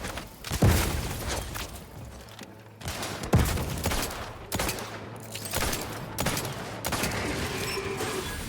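Grenade blasts in The Outer Worlds 2 video game, a string of loud booming explosions with crackling debris, several heavy hits spaced a second or two apart, with no talking.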